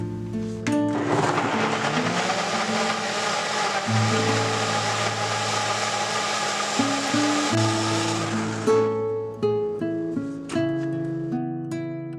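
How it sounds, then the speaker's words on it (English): Blender whirring through a ginger, turmeric and black pepper mixture: a loud, steady motor drone for about eight seconds, then it cuts out and leaves scattered clinks and handling sounds. "Blend everything well until smooth."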